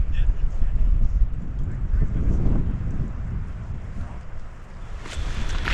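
Gusty wind buffets the microphone outdoors at Grayson Highlands, a steady low roar that swells and eases across the whole stretch, loud and close.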